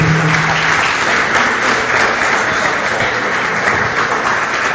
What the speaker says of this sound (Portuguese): Você pode aplaudir Jesus, irmãos?